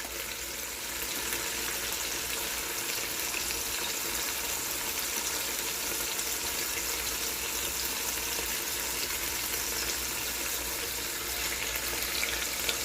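Chicken pieces sear for adobo in a pot, a steady bright sizzle of frying that holds evenly throughout with no voices.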